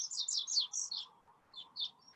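Birds chirping near backyard bird feeders and hummingbird feeders, a quick run of high tweets then a few more calls, soft and slightly distant, over a low hum.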